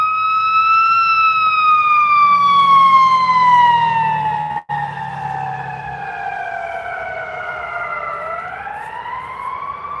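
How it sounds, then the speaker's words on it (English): An ambulance siren wails loudly and close on a city street, a long sweeping tone sliding slowly down then rising again, continuous for the whole stretch. "Let's let this ambulance pass."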